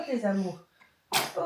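A baby gives one short, sharp sneeze close by, right after a voice sings softly, and talking resumes just afterward.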